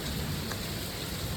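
Steady, dense rain pours down on a farm where cattle are kept, a constant loud hiss with no pauses or voices.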